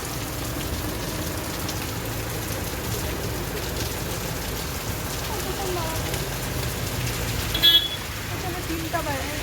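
Heavy rain pours steadily on a road in Darjeeling, a dense continuous hiss with passing vehicle sounds and a brief car horn near the end; a person talks over it.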